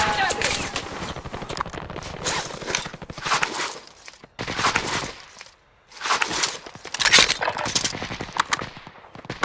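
Rapid automatic gunfire in a video game firefight comes in loud, dense bursts separated by short lulls, with a rattling, close-range quality.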